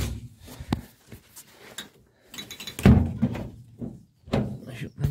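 Doors on an Austin Morris Moggy van being shut, several solid thunks and clunks spaced unevenly over a few seconds, with someone talking in between.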